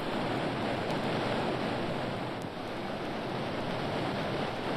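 A waterfall roars as an audio drama sound effect, a dense, steady rushing wash of water that holds at an even level throughout with no voices.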